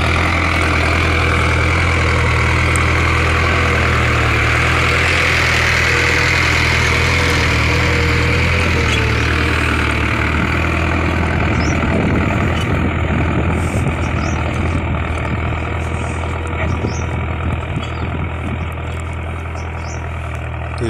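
A Mahindra Arjun Novo 605 4WD tractor engine runs steadily, a loud, close, low diesel rumble throughout with a rougher, more textured chugging in the second half.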